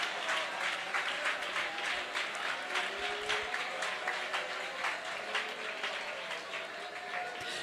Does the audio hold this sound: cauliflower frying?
no